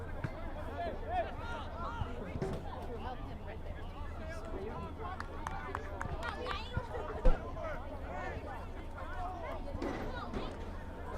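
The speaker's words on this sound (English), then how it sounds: "Nice crowd here from the Sousa Sports Complex in Central Islip to see this game." Crowd murmur and scattered chatter at an outdoor UPSL Premier soccer game at the Sousa Sports Complex in Central Islip, a steady babble of voices with occasional shouts and a single sharp knock.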